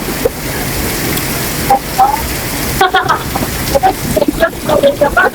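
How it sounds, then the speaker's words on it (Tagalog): Steady rain hisses throughout outside the Philippine Arena in Bulacan, with voices chatting and laughing over it. "Ang lakas pa ng ulan."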